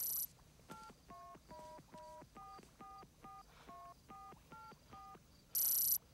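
A telephone dials a quick sequence of about a dozen distinct touch-tone beeps, evenly spaced and fairly faint, followed by a short bright electronic tone at the end.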